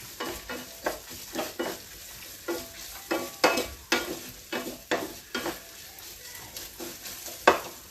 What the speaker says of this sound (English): If you are doing it in high flame, you need to keep stirring it constantly.